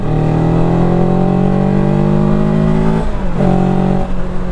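A MASH GT 750 motorcycle engine drones steadily in third gear at 4200 rpm and 75 km/h, then briefly drops in pitch as the throttle eases before settling into a lower hum.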